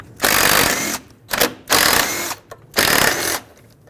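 A ratchet removes the 12mm bolts from a Nissan Pathfinder hood latch, three bursts of rapid clicking up close, each separated by short pauses.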